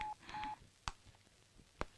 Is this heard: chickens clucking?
no